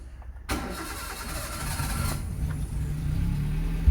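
A Maruti Zen car engine cranks and catches at about half a second, then settles into a steady, fairly loud idle that continues to the end, with no voices.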